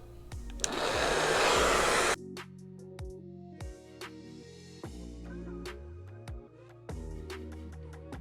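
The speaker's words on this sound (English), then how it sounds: "This is my blow dryer on warm heat, medium pressure." A hair dryer on warm heat and medium pressure blows loudly with a rushing whoosh for a couple of seconds, then cuts off, leaving scattered light clicks and handling noises.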